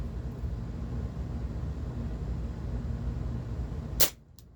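A Walther PPK/S 4.5mm BB pistol fires one sharp, close snap with a blowback clack near the end, following steady low background hum.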